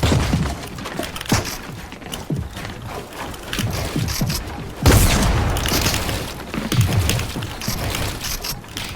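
Gunfire and impacts ring out in a battle royale shooter, with dense bursts, thumps and a loud blast near the middle over continuous game noise.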